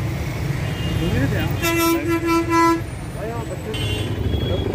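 Vehicle horns honk in a city traffic jam, a sustained toot and a few shorter blasts over steady road rumble, with people talking.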